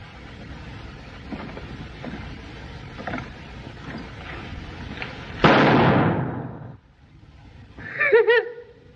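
Gunshots in a street shootout ring out in a late-1930s Western, preceded by low murmured voices and distant activity, then a single loud, sharp report that decays over a second, followed near the end by a brief ringing burst.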